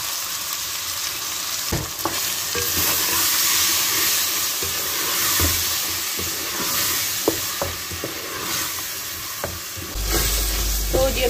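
Tomatoes sizzle and fry in a pan with leftover qeema while being stirred for pasta, producing a steady near hiss with scattered sharp clicks and scrapes of the spoon.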